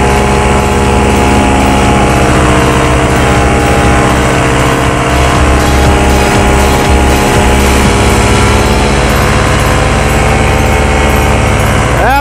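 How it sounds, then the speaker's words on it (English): BlackHawk 125 Lite paramotor engine running very loud and close at a steady, even RPM, with a constant buzzing drone that holds throughout and no talk over it. "No problem at all to hold that even RPM. Motor is tuned very nicely"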